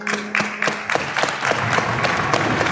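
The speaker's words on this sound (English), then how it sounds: "Gets a nice round of applause from the fans from both teams" Fans of both teams at a varsity ice hockey game give a warm round of applause in an arena, a steady run of distinct, crisp claps that stays loud and even throughout.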